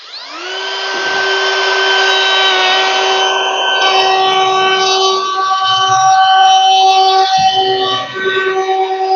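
A router with a 1.6 mm radius cutter trims the edges of oak cutting boards, a loud, steady high-pitched whine that holds throughout with brief dips as the bit bites into the wood.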